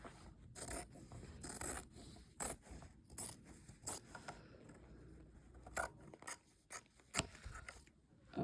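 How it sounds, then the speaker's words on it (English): Scissors trimming embroidery fabric around a hoop, a quiet series of crisp snips and scraping cuts repeated irregularly, close up with no talking. "Try to trim your fabric up to that line"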